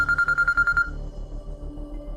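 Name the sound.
telephone ringing during phone call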